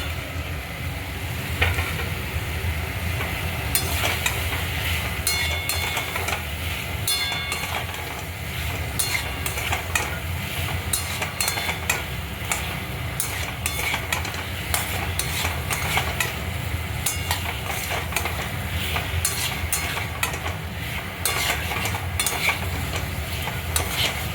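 New potatoes frying in a pan for dry Indian-style aloo dum, a continuous dense sizzle with frequent scraping and stirring clatter across the whole stretch, close and loud.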